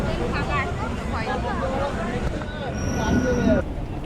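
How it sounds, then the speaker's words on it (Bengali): A local train pulls into Dum Dum station in Kolkata on a morning platform, its wheels squealing and rumbling amid a crowd, with people talking nearby. "যথাসময় ট্রেন এসে গেল"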